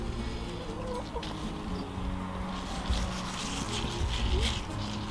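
Chickens cluck softly and intermittently in the background of an outdoor setting, against a steady noise floor without prominent voices.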